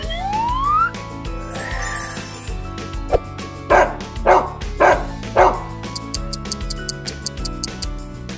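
A few short, bright dog barks ring out in a quick row over a cheerful musical backing, with chimes and effects around them.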